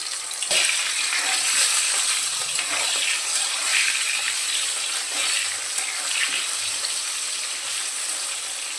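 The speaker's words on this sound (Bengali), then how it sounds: "আলুটা ভাজার সময় সামান্য লবণ হলুদও অ্যাড করেছি।" Potato pieces fry in oil seasoned with salt and turmeric, a steady close hiss and sizzle with faint crackles and an occasional stir, continuous and moderately loud with no talking.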